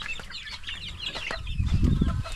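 A mother hen that has just hatched chicks clucks softly nearby in quick, chirpy bursts, building to a fuller, lower run of clucking toward the end.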